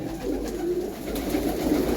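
Pigeons at a loft in Hardaspur coo softly, a low continuous murmuring burble close by with no clear breaks.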